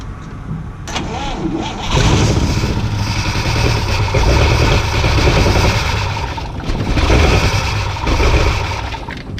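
An old Oldsmobile Rocket car engine, restarted after sitting over 20 years, runs loudly and continuously, its rough mid-range drone rising and settling slightly as the throttle is worked.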